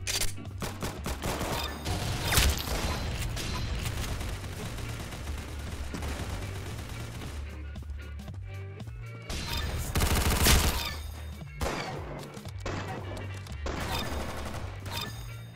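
Rapid gunfire in the Roblox game Arsenal, with dense machine-gun bursts and sharp single shots crackling almost nonstop over game music, loud and close throughout.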